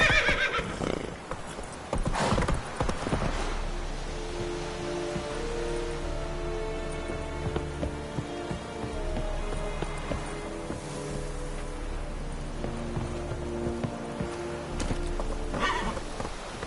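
Roach, a horse in The Witcher 3: Wild Hunt, gives a loud neigh and then clip-clops along at a steady pace, hoofbeats close and continuous under a soft patter like rain, with game music droning behind.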